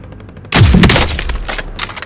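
A single sharp gunshot in a first-person shooter game cracks out loud and close, followed by a decaying rumble and scattered game effects.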